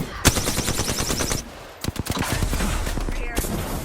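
Rapid bursts of gunfire in a shooter video game, with dense automatic fire in quick repeated cracks, a short lull, then more shots mixed with game effects.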